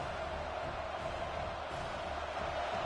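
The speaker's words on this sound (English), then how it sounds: "Listen to the crowd energy here in the early going." A large crowd in a college football video game stadium roars steadily with a broad wash of cheering and noise, constant and distant, filling the whole space without a break.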